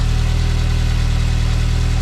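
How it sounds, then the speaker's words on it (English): A swapped turbo 1.8 20V engine in a Toyota MR-S runs steadily at idle, a loud, close, even low rumble with a regular pulsing beat and no talk over it. "Engine sounds healthy. No smoke, which is good. Bloody Nora, it runs."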